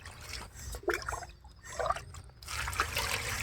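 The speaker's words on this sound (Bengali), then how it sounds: "আমরা কিন্তু এবার ধুয়ে তারপরে রেখে দেবো কিছুক্ষণের জন্য, যাতে জলটা নিচে পড়ে যায়।" Water trickles and drips off freshly washed vegetables left to drain, in short uneven splashy bursts heard up close with brief quiet gaps.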